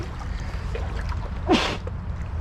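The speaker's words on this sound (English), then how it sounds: "I think I'm gonna sneeze" A muffled sneeze buried in a puffy, slick plastic jacket sleeve outdoors by a city creek, one short burst over steady background noise.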